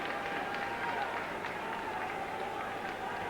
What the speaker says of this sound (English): Applause coming from the United fans. I think ironic applause for the linesman.